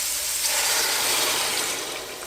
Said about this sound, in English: I'm adding some stock